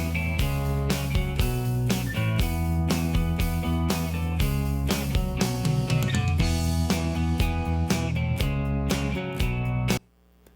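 AI-generated grunge rock music with guitar, a steady driving beat under strummed and picked guitar parts, dense and continuous, ending abruptly.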